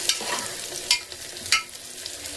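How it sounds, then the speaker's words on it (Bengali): Steady sizzling of onions frying in hot oil, with a few scraping stirs of a utensil cutting through the crackle. "পেঁয়াজগুলো দেখুন এইরকম ভাজা হয়েছে"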